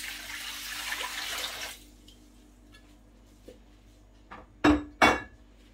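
Water is poured into a container of soaking wheat and dried beans: a steady pouring rush for under two seconds, then quiet, then two sharp clattering knocks of dishware.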